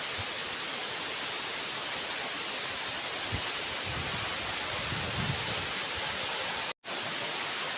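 Steady broadband rush of a waterfall at a rural tourist spot in a village setting, constant and loud throughout with only a momentary dropout near the end.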